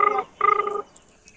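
A telephone being dialed gives two short electronic tone beeps in quick succession, close and clear, followed by quiet.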